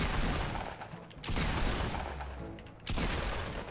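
Repeated shotgun blasts in Fortnite Battle Royale, three loud broadband bursts roughly a second and a half apart, each with a long ringing decay, dense and close with no talking.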